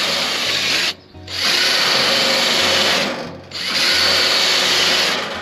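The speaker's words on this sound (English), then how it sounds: "So I decided to get out the wire wheel with the drill," An electric drill spins a wire wheel against a cast iron pan to strip it down, a loud continuous grinding whine that cuts out twice briefly before resuming, with no talking.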